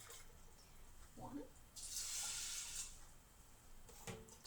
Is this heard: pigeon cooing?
no